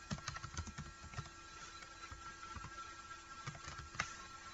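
Code being typed on a computer keyboard: quick, irregular key clicks in short bursts, faint and close, with a brief pause midway before the tapping resumes, and no voices.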